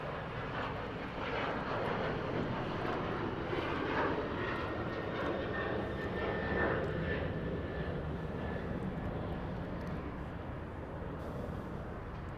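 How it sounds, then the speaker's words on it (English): United Boeing 787 Dreamliner jet airliner departing Los Angeles International Airport, a continuous broad engine roar holding steady and loud throughout, heard alone without talk. "Another Dreamliner going to Haneda from United."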